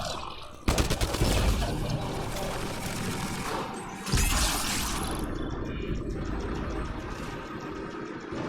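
Bursts of rapid gunfire in the Mass Effect: Andromeda video game, starting abruptly and running on steadily, with a second heavier burst midway, loud and continuous over a low engine-like rumble.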